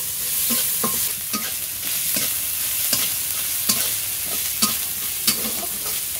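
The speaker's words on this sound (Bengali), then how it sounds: "আমি নারকেলগুলো দিয়ে ভেজে নেব। নারকেলটা একটু লালচে লালচে করে ভাজতে হবে।" Grated coconut frying in a pan: a bright, steady sizzle with regular spatula strokes scraping and tapping every second or so, close and clear with no talking.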